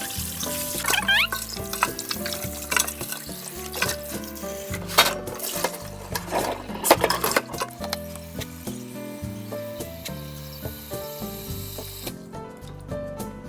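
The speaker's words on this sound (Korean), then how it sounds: "우와, 팔팔 끓어오르고 있어요." Gamjatang, a Korean pork bone soup, boils in a pot with bubbling and sizzling, broken by clinks and clatters of metal close by before it settles into a quieter simmer.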